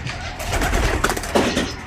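Pigeons at close range give a brief burst of deep throaty cooing over a loud, broad rumble of background noise.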